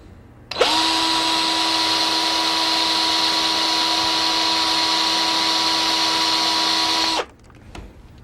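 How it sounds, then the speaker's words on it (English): A power drill drives the last screw into a model railroad track tie over a sound-absorbing pad on plywood, a steady loud whine running about six and a half seconds before stopping abruptly. "So let's put our final screw in this tie."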